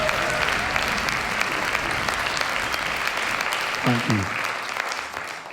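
Sustained audience applause at a folk festival concert in Shetland, a broad even wash of clapping from a large crowd throughout, with a brief spoken thank-you near the end.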